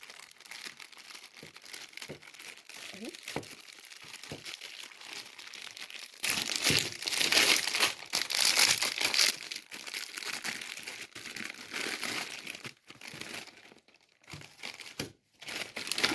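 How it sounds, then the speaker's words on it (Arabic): Plastic packaging around a block of Egyptian butter is pulled off and the inner bag opened, producing close, loud crinkling and tearing that swells midway and continues in bursts, with no talking. "نشيل الباكج ده ونفتح كده الكيس من جوه"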